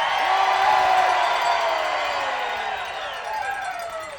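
A large crowd at a rally roars and cheers loudly, with whoops and shouts that gradually fade and thin out.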